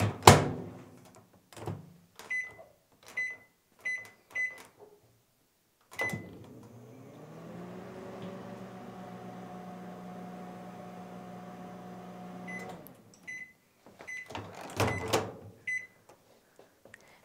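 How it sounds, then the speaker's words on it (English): Microwave oven set on high to heat a bagged fomentation pack: a few clunks and button beeps, then a steady hum with a faint whir for several seconds, then more beeps and door clunks. "place it into the microwave and microwave it for approximately 10 minutes on high"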